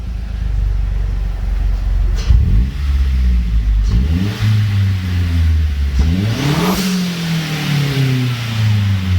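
A Mazda Speed 3 engine with a catback exhaust revs repeatedly, climbing and falling in pitch with a deep, throaty exhaust rumble, close and loud with no talking.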